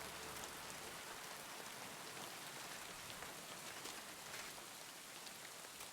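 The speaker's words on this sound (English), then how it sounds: "it's still raining." Steady rain falls in Kingdom Come: Deliverance 2, a soft continuous hiss of drops pattering on surfaces, faint and even with no voices over it.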